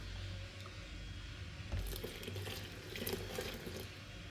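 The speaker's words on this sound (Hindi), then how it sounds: "तकरीबन 2 गिलास पानी ऐड करेंगे" About two glasses of water poured into a pot of beef masala, a soft, fairly quiet splash and gurgle of liquid that swells in the middle and continues without any talk.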